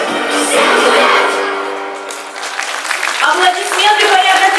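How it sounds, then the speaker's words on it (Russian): An audience applauds a children's choreographic ensemble after a pop-dance number at a stage competition, a broad wash of clapping that swells as the music fades, with a voice speaking over it. "Аплодисменты хореографическому ансамблю «Счастье»."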